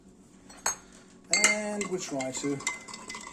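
Salt being stirred into water in a glass, a spoon clinking and scraping against the glass in a quick run of bright taps, close by, with a voice speaking briefly at the start.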